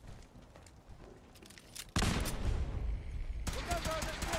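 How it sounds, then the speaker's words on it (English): Grenade blast followed by rapid gunfire in the video game Fallout 4; a quieter stretch gives way to a sudden loud burst of shots and explosions that continue dense and close. "Alright, well, I blew up some corpses."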